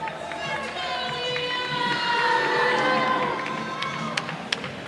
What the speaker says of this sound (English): his teammates cheer him on to the left of the broadcasting booth